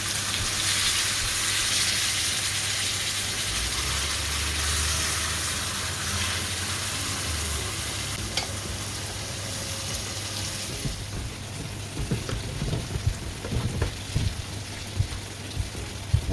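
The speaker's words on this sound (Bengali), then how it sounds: "তো মশলার মাঝে মাছের মাথারে বালাখড়ি ফ্রাই করি" Fish head frying in spice paste in a pan, a steady loud sizzle and crackle throughout, joined later by scattered clinks and scraping of stirring.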